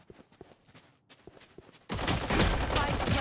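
Footsteps tap lightly through quiet before a sudden, loud stretch of rapid gunfire from a Valorant match erupts and continues dense and close until the end.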